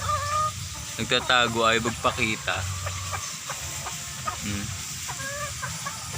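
A hen clucks inside a chicken coop on a small backyard farm that also keeps ducks, giving a few close, throaty calls mixed with other fowl sounds while a person talks nearby.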